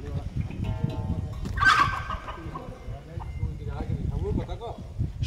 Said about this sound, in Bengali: মোরগটা বিশাল বড়